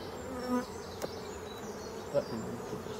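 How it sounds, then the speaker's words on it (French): Many honey bees in a beehive body make a dense, steady buzzing drone throughout, close and continuous, with a couple of brief knocks and handling sounds over it. "je ne vous dis pas la quantité d'abeilles qu'il y a dans le corps, dessous"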